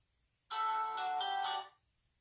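A single outgoing phone call ringback tone on speakerphone, a steady electronic ring lasting just over a second, fairly loud and clear, with silence before and after.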